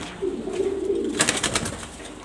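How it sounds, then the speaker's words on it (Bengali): Pigeons cooing in low, rolling murmurs, close by, with a burst of sharper rustling and clatter partway through. "কবুতরগুলো সুন্দর।"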